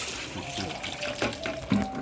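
Water pouring and splashing as ginger is washed by hand in a home kitchen for making dry ginger, a soft, steady trickle with a few brief sloshes.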